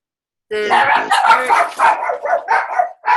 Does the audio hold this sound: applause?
no